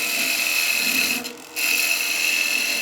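Skew chisel taking peeling and planing cuts on a spinning top turning on a wood lathe: a steady, close hiss of cutting with a brief quieter dip in the middle, no talking.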